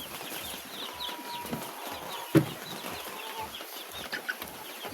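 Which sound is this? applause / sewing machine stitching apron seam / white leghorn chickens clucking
white leghorn chickens clucking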